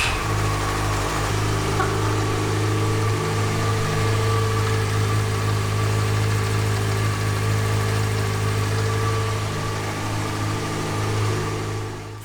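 A motorcycle engine running just after its crankcase cover was refitted with fresh sealant and the oil refilled. It holds a continuous loud, close droning idle throughout, with no voices.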